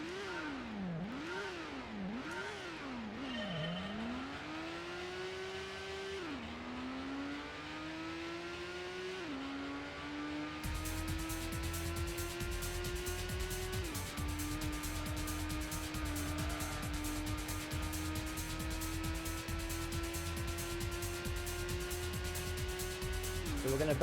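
A fast car in the 1997 PlayStation Gran Turismo licence trials revs hard through repeated quick upshifts, then holds a steady high-pitched drone at speed with a buzzing rattle underneath, loud and continuous.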